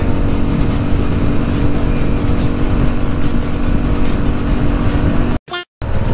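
A Kawasaki KR150 motorcycle is ridden along with a loud, continuous engine drone and heavy wind rush close to the microphone. The sound cuts out briefly near the end.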